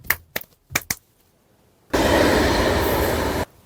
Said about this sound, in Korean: 여러분과 제가 함께 달리고 있는 열차 안입니다.